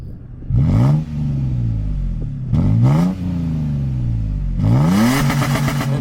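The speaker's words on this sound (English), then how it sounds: "I'll give you all a good little exhaust clip that I have of that." A 2007 lifted Toyota Tacoma pickup with a straight-through muffler exhaust revs three times, each blip rising sharply then falling back to a steady idle, loud and close with no talking.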